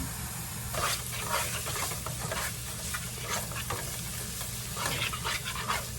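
Steak and Brussels sprouts cooking together in a pan, a constant soft sizzle with intermittent scraping and stirring bursts, fairly quiet and with no one speaking.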